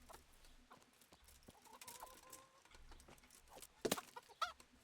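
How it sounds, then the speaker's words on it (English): Chickens in a medieval village in the video game Kingdom Come Deliverance, scattered quiet clucks and short squawks, with one sharper burst near the end, over faint ambient background. "I need these chickens."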